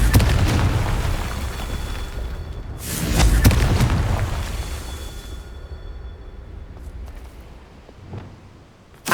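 A Confringo fire spell from Hogwarts Legacy bursts as a deep boom with a long rumbling tail, followed by a smaller pop near the end, with no talking over it.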